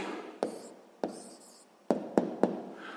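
Pen or pencil on paper while writing down the answer to a sixth-grade maths exercise: a handful of sharp taps and short scratchy strokes, close and fairly quiet, alone with no talking.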